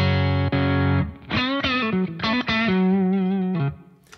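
An electric guitar through a Revival Drive overdrive pedal plays sustained chords and a short melodic phrase, gritty and thick, with notes ringing before cutting off; no voices.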